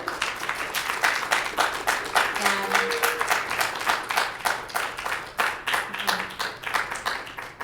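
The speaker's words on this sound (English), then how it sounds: "I just want to have a warm round of applause for Mr." Applause at a Comic Con panel, a warm round of many hands clapping in a lively, uneven rhythm that carries on for several seconds, with brief voices underneath.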